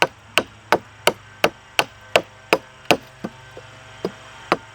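Sharp wooden chops ring out in a steady rhythm, about a dozen hatchet strikes on wood, close and crisp with brief quiet between blows.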